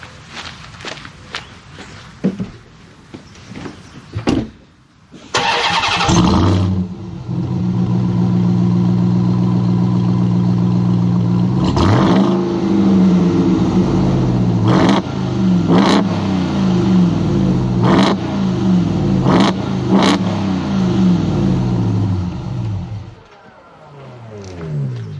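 A 2021 RAM TRX pickup truck, parked and standing still, starts up with a loud crank and catch, settles into a deep idle, then is revved in repeated sharp bursts that bump against a soft limiter before shutting off.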